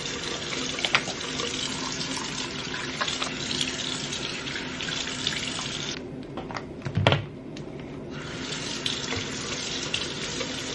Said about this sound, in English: we are gonna wash our face, brush our teeth